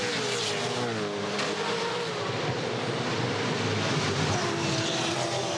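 Ford Falcon touring race cars in a 2014 Dunlop Series race at the Homebush street circuit, a steady, loud, continuous engine roar from several cars passing close together with no break.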